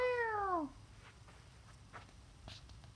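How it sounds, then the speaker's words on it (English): A cat gives one loud, drawn-out meow asking to be let outside, followed by faint indoor shuffling and small clicks. "Meow."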